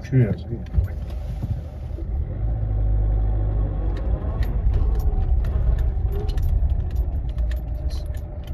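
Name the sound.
old car driving slowly on a path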